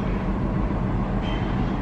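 Train rumbling past close by as a dense, steady roar with no pauses, heard alone for a brief moment.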